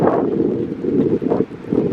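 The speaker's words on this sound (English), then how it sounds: "we haven't gotten blown away yet, but it is windy" Gusty wind blows outdoors on a walk near a Walmart, buffeting the microphone in uneven, rushing surges with brief lulls.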